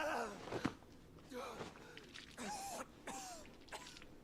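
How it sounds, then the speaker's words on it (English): A character in the video game Final Fantasy 16 coughs and clears his throat in several rough, strained bursts spread across a few seconds, fairly faint, among low game ambience. "Oh, he's still coughing."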